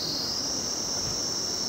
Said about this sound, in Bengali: সেই ঝিঝি পোকার ডাক